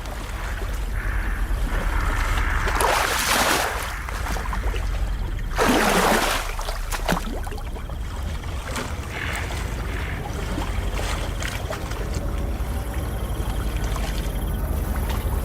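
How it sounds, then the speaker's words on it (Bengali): A cartoon sound effect of a boat being rowed across water, with splashing oar strokes and water swishes that swell loudly twice over a continuous watery background. "বেশ কিছুক্ষণ নৌকা চালানোর পর ওরা পৌঁছে যায় পাকজলাতে"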